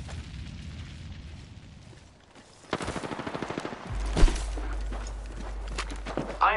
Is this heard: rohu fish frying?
no